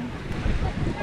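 Small boat with a 19-horsepower engine running on the water, a steady low rumble mixed with wind buffeting and water noise throughout the short stretch.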